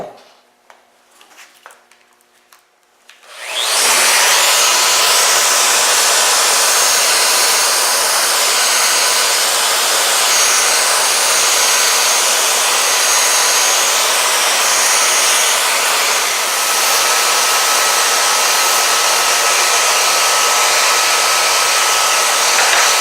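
A power sander works across a wooden nightstand top. It starts after a few seconds of quiet handling, then runs with a loud, steady whine that holds for the rest of the clip.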